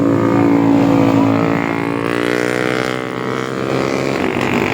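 A Yamaha NMAX scooter rides past on a road, its engine a loud, steady drone with rising and falling harmonic pitch, continuous throughout among other traffic.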